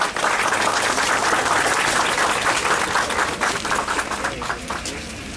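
Strong, steady applause from a seated audience at an association's opening ceremony, sustained for the whole stretch and easing slightly toward the end, with faint voices underneath.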